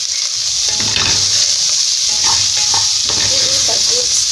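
Fresh beans and carrots hit hot onion already frying in a pan, giving a steady close sizzle with a few stirring scrapes and clatters over it.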